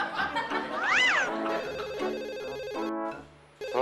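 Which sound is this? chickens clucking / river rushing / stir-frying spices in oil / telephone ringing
telephone ringing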